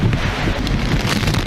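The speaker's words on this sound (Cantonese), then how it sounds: "全晚都風大雨大，樹木被吹到東歪西倒" Typhoon wind and heavy rain lash through the night, a dense, continuous roar buffeting the microphone at high, steady loudness.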